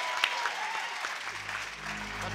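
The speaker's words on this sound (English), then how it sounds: "Make some noise for comedian John Cruckshank" Audience applause greets a comedian taking the stage at a stand-up show, a steady, dense wash of clapping from a crowd that holds at even loudness throughout, with a low hum building underneath partway through.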